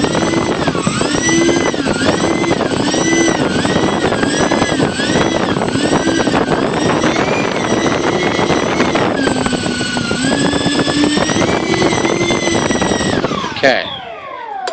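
Electric motors of a radio-controlled Airbus A380 model airliner run under throttle with weak batteries, a steady loud whine with shifting pitch that holds for about thirteen seconds before cutting off abruptly.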